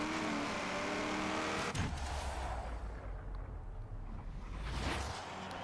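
A car engine in the racing game Top Speed with a Ferrari Nitro, a loud steady roar that drops and rumbles as the car speeds past. It is close and continuous, with no talking.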